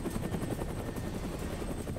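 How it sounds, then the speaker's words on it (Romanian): Helicopter in the game Prototype 2, a steady rapid rotor chop with a whining engine tone, fairly quiet and continuous, with no voices. "Omul meu s-a urcat în elicopter ca într-o Bugatti sau ceva."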